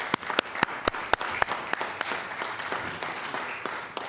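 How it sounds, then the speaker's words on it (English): Sparse, distinct hand claps ring out in the House of Assembly chamber to welcome a guest, a thin scattering of individual claps over a quiet room. "hopefully the House can give him a warm applause and welcome him to the House"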